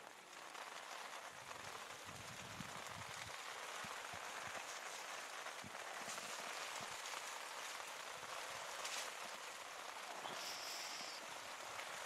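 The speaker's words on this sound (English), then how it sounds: "The rain starting to come down here. Coming down pretty good." Steady rain pouring down at a high school baseball game between Douglas and St. Mary's, a dense, even hiss of drops on surfaces throughout, fairly faint and distant with no talk.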